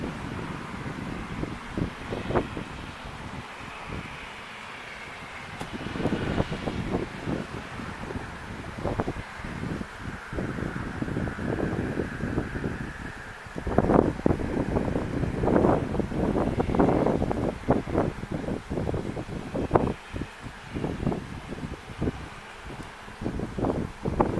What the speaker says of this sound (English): Wind blowing, making it a little difficult.